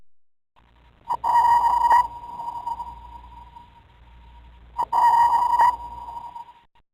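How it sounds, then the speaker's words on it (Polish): Two underwater sonar pings ring out, each a sharp metallic tone lasting about a second, followed by a long fading echo tail, with a pause between pulses. "Na przykład sonda powoduje taki dźwięk."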